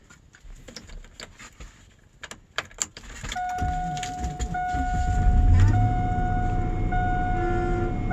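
A GMC Denali truck engine cranks and catches after a few faint clicks and rattles, settling into a steady, rising idle rumble up close in bitter cold wind, with a faint high whine over it.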